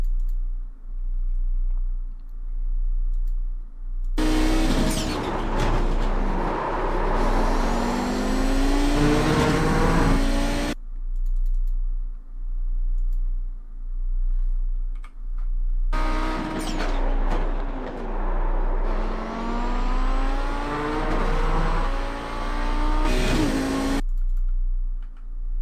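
An Audi race car engine accelerates on the Monza circuit in two long, loud passages of rising revs and gear changes, separated by quieter stretches under a steady low hum.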